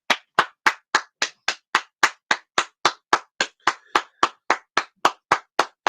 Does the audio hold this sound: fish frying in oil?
no